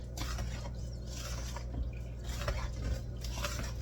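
Spoon stirring buttery cookie dough with chocolate chips and Butterfinger pieces in a bowl, giving a steady close scraping and clinking texture over a low kitchen hum, with no talk.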